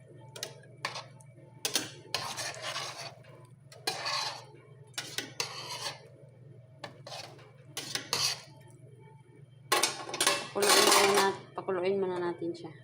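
A spoon stirs tomato paste into meat in a metal pot for Arabic-style majloob rice, making repeated clinks and scrapes in irregular bursts, close and fairly loud, with some faint background noise between strokes.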